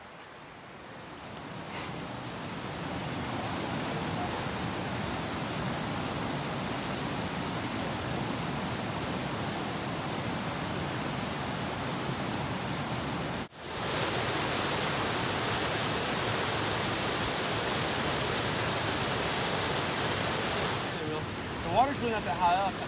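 A mountain creek flowing on a March hike, its rushing water forming a steady, broad, continuous roar close by, with a brief interruption partway through and soft voices faintly under the flow.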